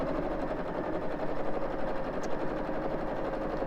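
A sewing machine stitches a quilting design at a steady, continuous rapid whir with a dense mechanical rhythm, close and moderately loud, without talk.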